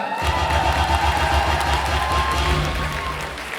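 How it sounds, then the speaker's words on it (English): A ballroom crowd at a ball claps and cheers loudly in a thick, continuous roar of applause and shouts, with a low thumping music bed running underneath throughout. "give him a round of applause"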